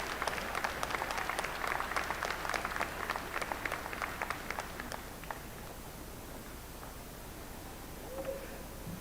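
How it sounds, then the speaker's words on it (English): Law school graduates at a commencement ceremony applaud their family and friends, with a dense, distant patter of clapping that fades out midway and leaves quiet room tone. "give them a round of applause"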